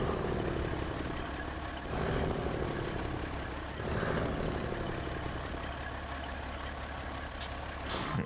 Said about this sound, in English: I love the sound this truck's engine makes.